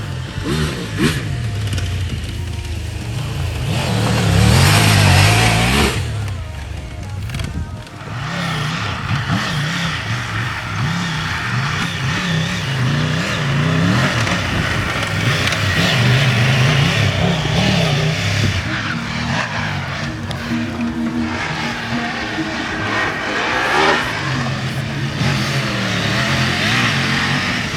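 A Triumph Tiger 1200 motorcycle engine revs and surges off-road on dirt, loud and close, rising and falling through throttle bursts, with tire scrabbling and skids across a long continuous run.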